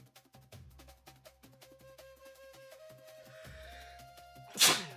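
A sudden sharp sneeze bursts out near the end, loud and close, following a few seconds of soft tonal music-like sounds in the background.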